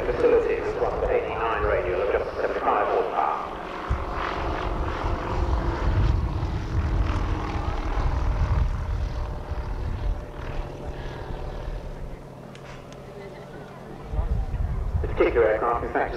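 A vintage light propeller aircraft flies past at Old Warden airfield, a steady droning engine rising and fading over several seconds, moderately loud and continuous with wind-like rumble underneath.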